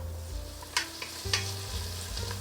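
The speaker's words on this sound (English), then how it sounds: "I'm gonna put some butter, a little bit of vegetable oil, onion and garlic in." Onion and garlic frying in butter and a little vegetable oil over medium-high heat, a steady close sizzle broken by a few sharp stirring scrapes and clinks of a utensil in the pan, no talking.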